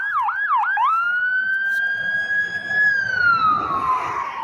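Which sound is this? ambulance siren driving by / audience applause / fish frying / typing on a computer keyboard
ambulance siren driving by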